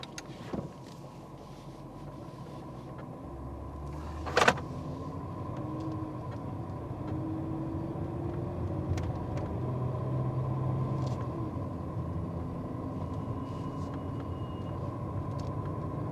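A 2011 Range Rover pulls away and drives off, a low, smooth, quiet engine rumble steady under faint road noise, with one sharp knock partway through and no talking.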